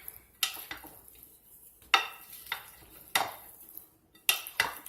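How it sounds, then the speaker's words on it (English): Potato salad being stirred by hand in a bowl, with a utensil clinking and scraping against the sides in several distinct strokes, close up and moderately quiet, with no talking. "you're just going to mix all of this together"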